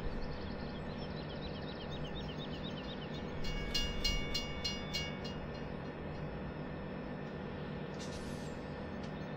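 A train moves along in the Farming Simulator 2017 video game, a steady low rolling rumble with a burst of rhythmic clicking clatter midway and a brief hiss near the end, fairly faint overall.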